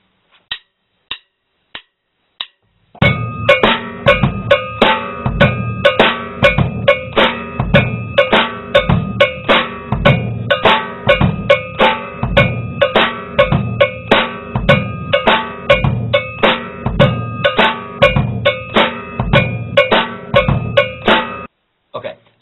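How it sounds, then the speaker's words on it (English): A rumba clave drum groove repeats steadily, with a few sparse taps leading into a dense, bright pattern of clave-like hits over drum tones. "Now that we got the rumba groove down"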